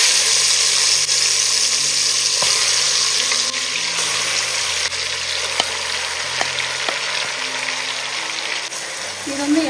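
Chicken pieces sizzling in hot oil with fried-down spices for chicken biryani, a steady broadband hiss with occasional stirring clicks, close and loud throughout, with faint background music tones underneath.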